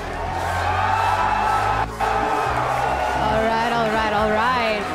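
Crowd at the 2018 Paladins World Championship esports event cheering and whooping loudly and continuously throughout, with a person talking over the noise.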